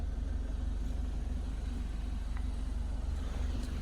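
A 2016 Scion iA idles steadily at its exhaust, a low, even engine thrum with a fast regular pulse that holds unchanged throughout.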